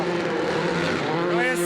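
WRC rally car driven by Jacek Ptaszek passes by, a steady engine drone with a strong tonal whine rising near the end, heard continuously at moderate distance with talk over it.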